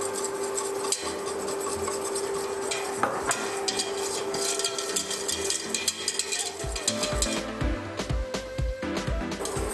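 A utensil scrapes and stirs through a lasagna white sauce of butter, flour and milk cooking in a pan, giving close, busy scraping and clinking that turns into quick rhythmic strokes toward the end, with no voice.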